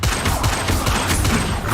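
A rapid, dense string of explosive magic blasts from the Bombarda spell in Hogwarts Legacy fires off in quick succession, loud and unbroken with no speech.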